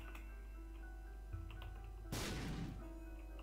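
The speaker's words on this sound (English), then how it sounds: "I thought those explosions were bigger." Bomb explosions from The Binding of Isaac game, a sharp burst with a short noisy tail standing out over steady game music, preceded by a smaller thump.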